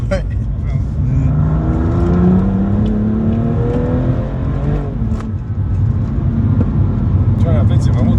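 A 2018 BMW M2 Competition accelerating on a race track, its engine note climbing steadily in pitch as the throttle opens, a loud, continuous drone with an occupant's voice partly over it.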